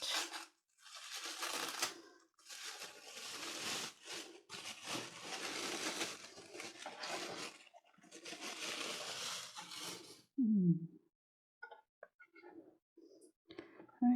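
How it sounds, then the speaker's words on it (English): Skincare bottles being unpacked and opened, with bursts of loud rustling and crinkling packaging, then a few small clicks and taps near the end, close and alone. "It's 3 bottles. I'll open them now."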